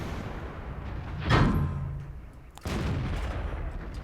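Artillery fire in the World of Tanks video game: a sharp nearby blast around the middle with a rumbling decay, followed by a second abrupt explosive hit, over a steady engine-like background drone.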